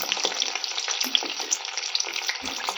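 Stuffed brinjal frying in hot oil for a masaledar Gujarati dish, a dense crackling sizzle with tiny pops throughout, close and continuous, with no one talking.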